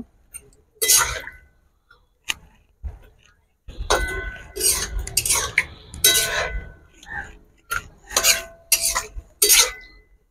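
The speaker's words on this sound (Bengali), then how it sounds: "ভেজে রাখা ভেন্ডি আর মাছগুলো আমি এর মধ্যে দিয়ে দেবো। দিয়ে ভালো করে এটা আমি মিশিয়ে নেব।" Fried okra and rui fish get stirred into a Bengali curry in a pan, with a spoon clinking and scraping against the metal in irregular bursts, some gentle sizzling underneath, close and fairly clear.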